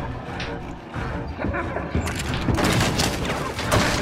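Several sharp gunshots crack in quick bursts amid loud clattering and rumbling in Little Nightmares II, growing busier and denser toward the end.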